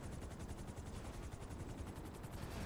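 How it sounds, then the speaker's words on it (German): Helicopter in the GTA V Online video game, a steady rapid rotor chop with dense broadband engine roar, loud and continuous throughout with no talk over it. "ich steige jetzt einfach mal in diesen Hubschrauber hier ein"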